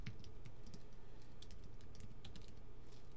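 Commands are typed on a computer keyboard while installing CollectD on a Linux server, a quick irregular patter of key clicks in short bursts, soft and close, with no talk.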